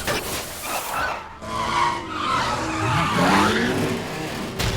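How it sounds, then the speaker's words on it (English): Tires skid and screech through a movie car chase, a continuous squealing slide with rising and falling pitch over engine roar, loud and close, with no talking. "he lost them driving like Toretto"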